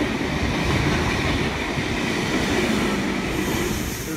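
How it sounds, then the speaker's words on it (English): A train rolls through Burwood station loud and near, a continuous dense roar of wheels and motors with faint squealing on top, unbroken by any voice. "We've got another train coming through."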